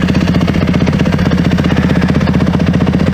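A motorbike engine in the racing game Ride 25 runs at a steady idle, its loud, even pulsing throb continuous throughout with no talking.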